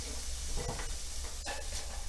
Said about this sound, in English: A little sizzle going on.